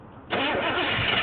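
A 1983 Camaro engine catches and starts abruptly, jumping into a loud, steady running roar close by after a brief quiet moment.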